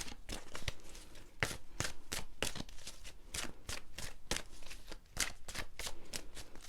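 A deck of angel guidance cards is shuffled by hand, a quick run of soft, papery riffles and slides repeating steadily at close range with no voices.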